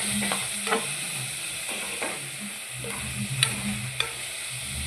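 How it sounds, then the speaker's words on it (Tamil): Tomatoes sizzling and frying in a pan with intermittent scraping and stirring clicks from a utensil, steady close-up hiss throughout. "தக்காளி ஆட் பண்ணி ரொம்ப வதக்க தேவையில்லை சும்மா ஒன்றா ரெண்டாக மட்டும் தக்காளி வதக்கினா போதுமானது"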